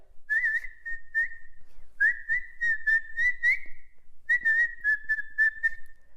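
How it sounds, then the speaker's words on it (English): A person whistles with pursed lips, a steady near tone in three sustained phrases with short wavering pitch bends and brief pauses between them, alone with no talking. "I actually taught myself how to whistle."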